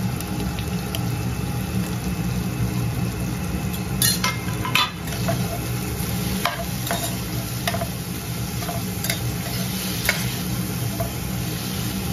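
Prawns and cashews sauté for prawn sukka with a constant close sizzle. A spatula scrapes and taps the pan at irregular intervals under a low background rumble.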